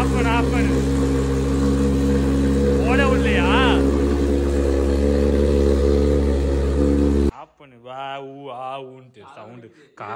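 A second-hand motorbike engine runs loud and steady throughout, with people talking over it, then cuts off abruptly near the end, leaving only speech.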